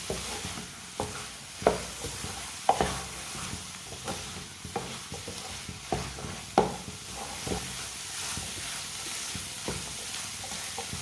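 Egg and peas mixture stirring and frying in a pan, with a steady sizzle under repeated scraping strokes of a spoon against the metal, close and moderately loud, no talking.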